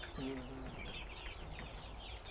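Parent stock chickens on a farm cluck and call in a noisy barn, with a rooster-like call near the start over steady background hum.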